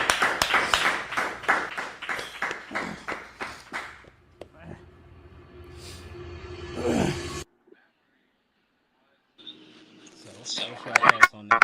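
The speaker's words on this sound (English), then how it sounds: "Clap it up, man." A group of people clap together in a burst of rhythmic, fairly close applause, which fades into scattered movement sounds and a brief pause before more noise returns.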